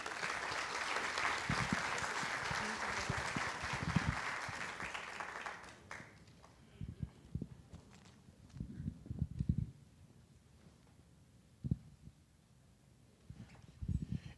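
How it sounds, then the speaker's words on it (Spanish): Audience applause welcoming the presenter of a conference on human security and healthy lifestyles, a dense sustained clapping for about six seconds that then stops, leaving a quiet room with scattered small knocks and shuffles. "Vamos a recibirlo con fuertes aplausos"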